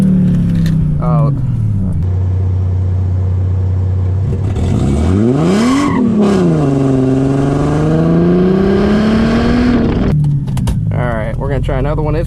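A Mercedes SLK32 AMG revving hard with a rising and falling engine whine as the wheels spin, loud and close, with a voice speaking briefly over it.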